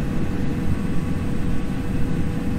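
A Cessna 310's twin engines drone steadily in a flight simulator, throttled back during a descent, a continuous low rumble with a broadband hiss that holds an even level throughout.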